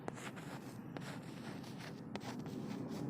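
Chalk or marker strokes on a classroom board, a run of soft scratchy scrapes and taps at close range, quiet and unbroken by talk.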